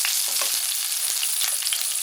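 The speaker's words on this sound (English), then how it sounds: "Sizzling, nothing like the nice smell of sizzling oil" Oil sizzles and crackles steadily in a pan before prawns are added, loud and close, with a few small pops over the constant hiss.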